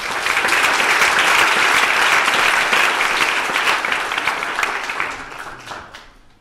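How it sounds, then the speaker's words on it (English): A congregation claps at a church induction service, a full, sustained round of applause that holds steady before tapering off and fading out at the end. "One more round of applause and thanks."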